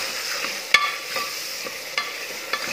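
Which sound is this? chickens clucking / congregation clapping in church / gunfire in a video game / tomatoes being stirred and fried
tomatoes being stirred and fried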